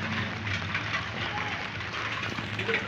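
Rain falls steadily outdoors as a soft, even hiss with faint patter, quiet and continuous with no clear voices.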